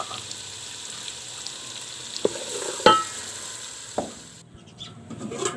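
Kadhi pakora mixture frying and being stirred in a pan, a steady sizzle with occasional scraping clinks of a spoon, close and moderately quiet.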